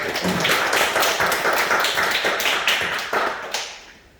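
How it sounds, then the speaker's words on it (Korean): A church congregation applauds during a Korean sermon, with many hands clapping in a thick, lively burst that carries on evenly and then fades out at the end. "박수로 하나님께 영광을 드리겠습니다"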